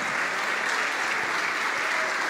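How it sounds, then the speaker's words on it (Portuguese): A congregation at a church service claps steadily in a continuous, fairly soft wash of applause that fills the whole short stretch, with no voices standing out. "vamos aplaudir mais"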